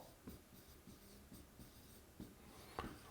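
Marker or chalk scratching across a board during a law lecture, a steady scraping texture with several sharper strokes, close and moderately quiet with no talk.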